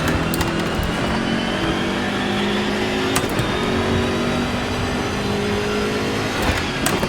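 A BMW M6 GT3 race car engine revs hard in Assetto Corsa Competizione from the cockpit, a loud continuous roar climbing under power with gear-change blips around the middle.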